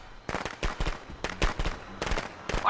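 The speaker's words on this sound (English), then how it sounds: "Why'd you waste those firecrackers, you little hoochie?" Firecrackers pop in the horror video game Friday the 13th: The Game, a scattered series of sharp, moderately loud cracks in irregular bursts, some doubled, with no voices.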